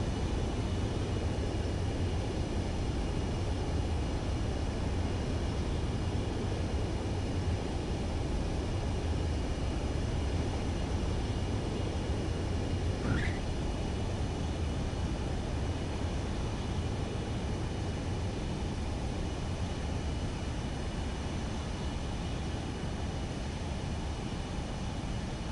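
Airplane engine in a video game flight, a steady broadband roar droning without pause for the whole stretch, loud and even, alone with no talk.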